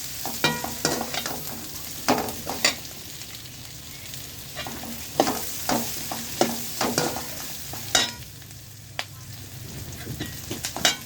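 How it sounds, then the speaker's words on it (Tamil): Pirandai (adamant creeper) chutney ingredients sautéing in a pan, stirred steadily so a spoon scrapes and clacks in irregular bursts over a soft continuous sizzle, close and alone. "ஒரு 2 நிமிஷம் நல்லா கிண்டி விட்டுக்கலாம்."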